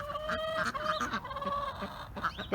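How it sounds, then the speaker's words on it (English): Busy calls from chickens and ducks overlap throughout, honking and clucking fowl close by, with layered squawks and cackles forming a constant farmyard chatter. "We're going to let the chickens and the ducks out over there"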